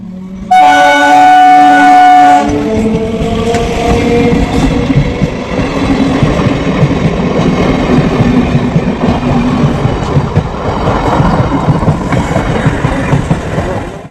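At a railway level crossing a train sounds its horn with a long blast, then roars past loudly and close, its wheels clattering in a continuous rhythmic rumble for many seconds.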